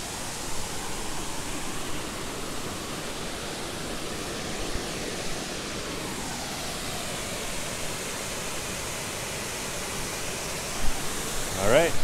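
Hooker Falls in DuPont State Recreational Forest, North Carolina, pours with a steady, dense roar of rushing water close by, and a voice briefly cuts in near the end.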